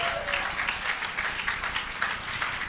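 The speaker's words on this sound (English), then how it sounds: "So give yourselves a round of applause." An audience at a 2022 peace conference on the Korean Peninsula in Washington, D.C. claps in a sustained, even round of applause, quiet and somewhat distant, with no voices above it.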